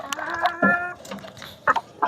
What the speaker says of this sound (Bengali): আর এগুলো হচ্ছে দেশি মুরগি